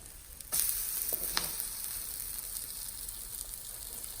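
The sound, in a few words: drumstick flower capsicum omelet cooking in a pan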